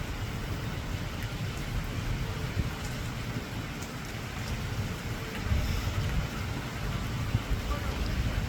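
Steady rain with rumbling thunder during a storm in Middletown, Louisville, Kentucky, a constant low wash of falling water and deep rolling rumble, moderately faint, swelling slightly midway.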